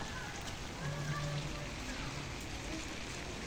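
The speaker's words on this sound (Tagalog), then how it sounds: "Ulan na naman." Steady rain patters continuously on surfaces, a soft even hiss of falling water with faint background sounds.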